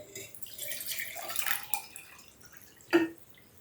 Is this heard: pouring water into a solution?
yes